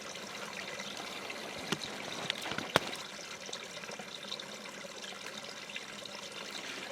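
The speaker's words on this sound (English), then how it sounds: "Sitting here by the river" Steady broadband rush of flowing water, a continuous trickling and babbling stream close by, with a couple of faint clicks but no talking.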